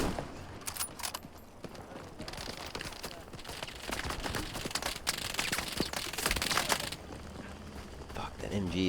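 Machine gun fire in Hell Let Loose during a World War II battle at El Alamein, sustained bursts and scattered shots in a dense, noisy firefight with voices talking over it.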